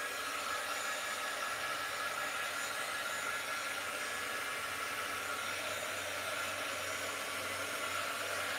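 Heat gun blowing steadily to dry watercolor ink on vellum, a continuous airy whir with a low motor hum, constant and close throughout with no pauses.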